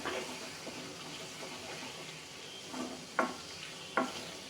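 Sliced onions and green chillies sizzle softly in a pan for a tangy gongura chutney, with a steady low frying hiss broken by a few sharp spatula scrapes near the end.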